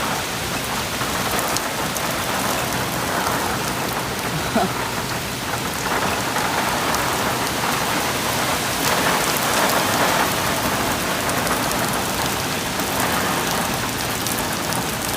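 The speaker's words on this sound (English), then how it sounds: "Here comes the downpour." Heavy rain pours down in a constant, dense hiss that never lets up.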